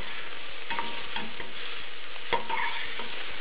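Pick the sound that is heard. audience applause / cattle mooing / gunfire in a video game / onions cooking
onions cooking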